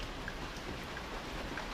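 Heavy rain pouring down steadily on a farm, a dense even hiss of drops striking surfaces with no breaks, close and continuous.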